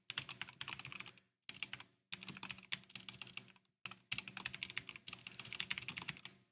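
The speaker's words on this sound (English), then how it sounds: "Having a hard time typing this afternoon" Rapid typing on a computer keyboard, close and clear, comes in bursts of dense clicking separated by brief pauses, with no talk.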